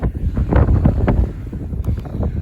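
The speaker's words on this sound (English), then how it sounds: "Sorry about the wind. It is so windy." Strong gusts buffeting the microphone outdoors on a farm, a heavy low rumbling roar that swells and dips continuously throughout, loud and close with no talking.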